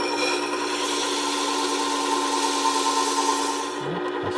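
A hand plane is rubbed back and forth on fine abrasive grit during first-time setup, a close, continuous gritty scraping with a steady rhythm that eases off near the end.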